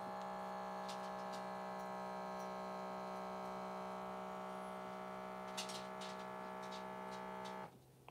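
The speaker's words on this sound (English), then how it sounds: "it automatically vacuums the whole entire air out of the canister" An electric vacuum coffee canister pumps the air out, a steady tonal motor hum with faint ticks that stops abruptly near the end.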